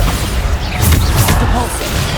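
Bombarda explosion spell in Hogwarts Legacy going off amid combat, a loud crashing boom with scattered debris cracks and a deep rumbling tail.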